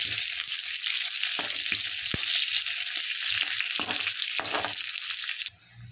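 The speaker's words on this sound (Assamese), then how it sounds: "এনেকৈ ভাজি ল'ম অকণমান।" A pan of onion, ginger, chilli and garlic fries for paneer gravy, hissing loudly and steadily up close while a spoon scrapes and stirs at intervals; the sizzle eases slightly at the very end.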